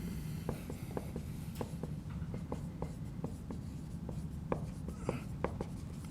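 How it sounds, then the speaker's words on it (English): Marker or chalk writing on a board during a math lecture, with repeated short, crisp taps and strokes over a low, steady room background. "I'm just going to write it."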